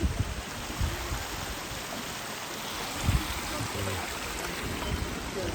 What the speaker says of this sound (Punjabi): ਬਹੁਤ ਬਰਫ਼ ਪਿਘਲ ਕੇ ਆ ਰਹੀ ਹੈ ਤੇ ਦੇਖੋ ਪਾਣੀ ਬਹੁਤ ਪਾਣੀ ਦਾ ਬਹਾਅ ਤੇਜ਼ ਹੋ ਗਿਆ